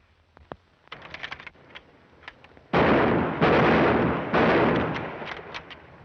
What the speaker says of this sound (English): Cease firing!